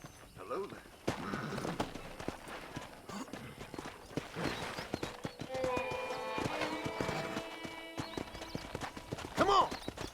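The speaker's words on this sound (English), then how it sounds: "I picked out a fine horse for you. Giddy up!" Rhythmic hoofbeats clop steadily alongside a whinny in Red Dead Redemption, with a voice speaking over the galloping and game-like music in the background.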